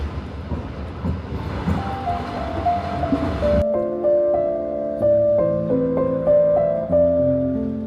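A passenger train in motion, heard from inside a sleeper car, gives a steady rumbling roar that suddenly drops to a quieter hum with sustained tonal whines and squeals layered on top.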